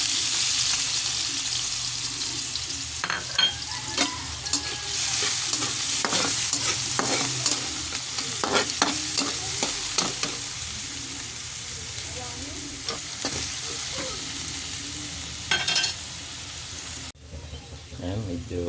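Garlic fries in oil in a pan for pork caldereta, a loud continuous sizzle broken by repeated scraping stirs and clinks of the spoon, with the hiss dropping briefly near the end.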